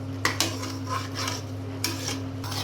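A spoon stirs cooked basmati rice kheer inside a cooker, making a few quiet scrapes and metallic clinks against the pot, close by and with no talking.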